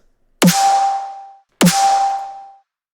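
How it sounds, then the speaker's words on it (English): Two identical distorted deathstep pan snare hits, each a sharp metallic crack with a ringing tonal tail lasting about a second, separated by a brief silence. "that's basically how to make a Deathstep Pan Snare"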